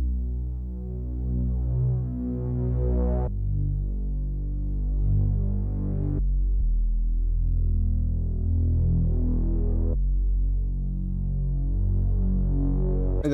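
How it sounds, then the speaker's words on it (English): Ambient bass for a type beat made in FL Studio: deep, sustained low notes that swell and throb, changing pitch every few seconds, loud and alone with no voices. "So this is what the bass sounds like."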